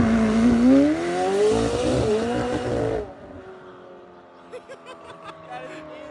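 A McLaren 720S loses traction, its engine revving hard with tire squeal for a few seconds before cutting off abruptly, followed by quieter ambience and short bursts of people talking.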